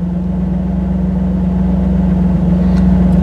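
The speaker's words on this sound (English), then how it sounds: "it's gone and decided that it was time to pick up the idle a little bit" A 3rd-generation Camaro's 305 TPI engine idles with a steady low hum, its pitch and loudness creeping up slightly over a few seconds, close and continuous.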